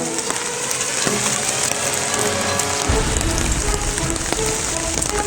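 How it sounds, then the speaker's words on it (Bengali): Rain falls steadily near the Ichamati river, a dense close patter on surfaces that thickens into a heavier downpour partway through, with no talk. "ও সেই বৃষ্টি পড়ছে দারুণ পরিবেশ"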